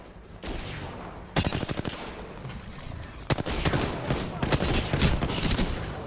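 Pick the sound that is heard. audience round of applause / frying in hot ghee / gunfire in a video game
gunfire in a video game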